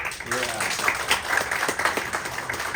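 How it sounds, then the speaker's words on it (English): Clapping from an audience at a startup pitch session rises as a speaker is welcomed on stage, moderately loud and continuous, with voices talking over it. "Guys, round of applause."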